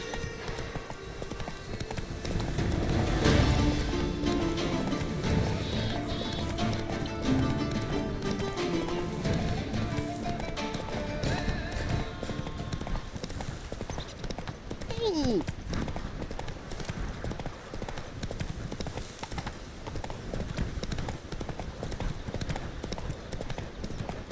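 Horse hooves clip-clopping at a run in The Witcher 3: Blood and Wine, a steady rapid rhythm of hoofbeats over game music and ambience, with voices heard.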